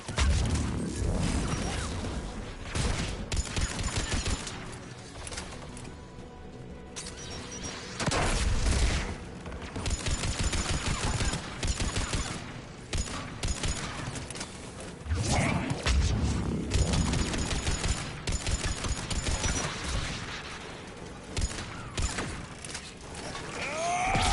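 Mass Effect 3 anti-aircraft guns fire in a dense, dramatic battle soundscape, with rapid bursts of heavy gunfire, booms and crashes rising and falling over a continuous rumble and mechanical noise.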